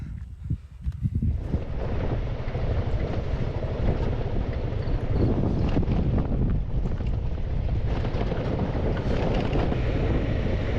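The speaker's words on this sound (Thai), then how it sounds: "ลมแรงมากเล" Strong wind roars across a mountain sea-of-fog viewpoint in Pai, with loud, continuous broadband buffeting of the microphone that rises after the first second and holds steady throughout.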